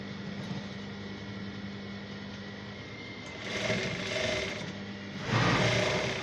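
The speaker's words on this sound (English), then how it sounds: "Then I'm going to sew." Sewing machine stitching a five-inch dart on short pants, a steady whirring hum that swells louder in two bursts near the end, heard alone without talk.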